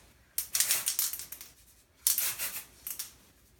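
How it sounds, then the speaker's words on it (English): Two bursts of brisk rattling, a small bead clattering inside a shaken spray bottle, close and fairly loud, with a short pause between them. "Shake it up, make sure you hear the little bead in the bottom."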